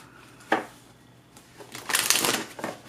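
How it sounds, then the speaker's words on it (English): A deck of cards is handled with a sharp snap, then a fast riffle shuffle whirs briefly, followed by a short final flutter. "I am going to shuffle a few times on camera"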